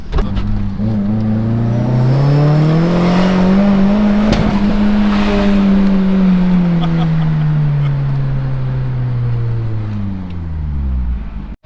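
A car engine at cold start, a loud, close, continuous droning note that rises and then slowly falls, with a rough, rattling edge throughout and a brief sharp knock midway.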